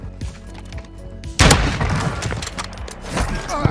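Gunfire in a Search & Destroy match, a sudden loud burst of shots erupting midway after softer clicks and thuds, with scattered follow-up cracks.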